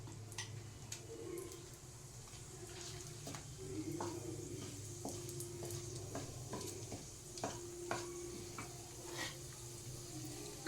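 Whole garam masala and a bay leaf frying in hot oil in a pan while being stirred, with a steady soft sizzle and scattered clinks and scrapes of the spoon throughout, close and moderately quiet.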